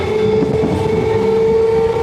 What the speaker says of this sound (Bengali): এই নৈহাটি জংশন থেকে আমাদের ট্রেন যাত্রা শুরু করলো হালিশহর রেলওয়ে স্টেশনের উদ্দেশ্যে